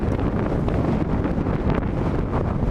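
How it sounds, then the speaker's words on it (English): Strong gusting wind on an open moor in stormy weather, roaring and buffeting the microphone close up with a dense low rumble that never lets up, no speech. "This wind's picked up hell of a lot."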